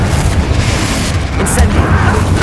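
A booming fiery blast from the Confringo explosion spell in Hogwarts Legacy, a heavy rumbling burst with crackling debris, loud and close, with game sounds around it.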